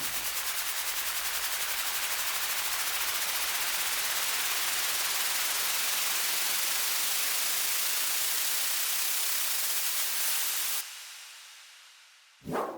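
A white noise riser synthesized in Serum 2: a dense, hissing wash of noise at steady loudness that cuts off abruptly, leaving a brief low tail before a short final hit.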